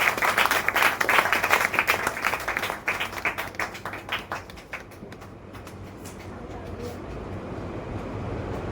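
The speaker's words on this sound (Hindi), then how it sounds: "जोरदार ताली।" An audience at a network marketing business seminar in Patel Nagar, New Delhi, bursts into loud, rapid clapping that tapers off after about five seconds into a quieter room murmur.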